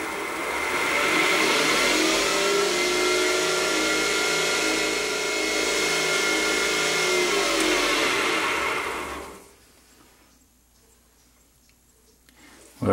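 A wood lathe spinning a black palm pen blank at raised speed for polishing gives a loud steady whirring drone for about nine seconds, then spins down and falls quiet.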